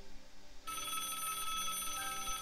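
A telephone rings in the Broken Sword point-and-click adventure game, a steady trilling bell that starts abruptly and continues loud and unbroken.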